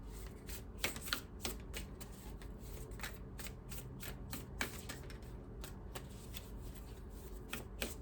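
Oracle cards riffled and shuffled by hand in a steady run of crisp, papery flutters and light snaps, close and fairly quiet, with no talking.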